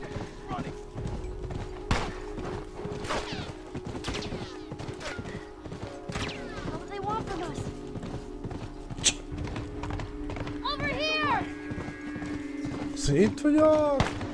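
Horse hooves clip-clop in The Last of Us video game, with occasional neighing under busy game effects and frequent excited talk from a player.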